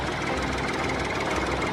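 A vehicle engine runs with a steady, close, rumbling drone and slight knocking texture throughout the short stretch, no voices.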